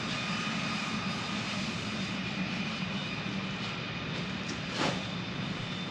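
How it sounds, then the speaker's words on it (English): A jet moving around out on an airfield ramp gives a steady, distant engine roar with a faint high whine, constant throughout with one brief louder rise near the end. "Sounds like a jet."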